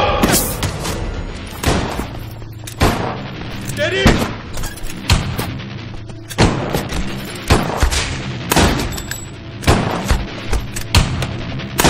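Gunfire from an action movie scene about pursuing a terrorist: repeated loud, close shots crack in irregular bursts, mixed with thuds and movement, with no talking heard.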